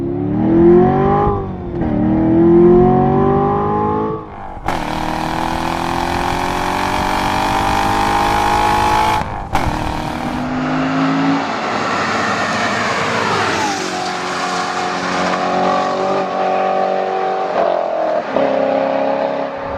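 A 2014 Chevrolet Corvette Stingray Z51's exhaust, in its loudest mode, roars through repeated hard accelerations, the engine note climbing through gears with brief drops between shifts, close and powerful.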